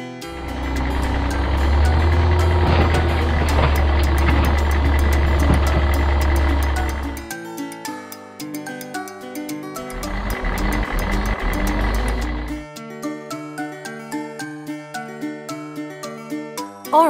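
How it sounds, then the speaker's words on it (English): An orange garbage truck's engine rumbles loudly in two long stretches, separated by a pause, with a steady, cheerful musical tune playing in between and afterward. "Orange, garbage truck."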